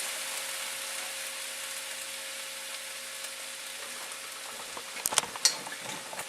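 Tomato and pepper puree sizzling in a hot pan while cooking paneer tikka masala, a steady frying hiss throughout with a few sharper spits and crackles near the end.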